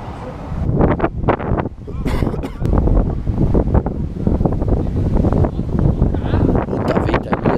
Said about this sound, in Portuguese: Que vento é esse? Da onde vem?